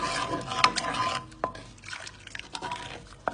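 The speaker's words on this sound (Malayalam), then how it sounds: "വെണ്ണ ആയാലും എല്ലാമായി നന്നായിട്ട് മിക്സ് ചെയ്യുന്നു" Butter is mixed into ring murukku dough in a bowl, with close, busy scraping and squishing strokes and a few clinks of a utensil against the vessel.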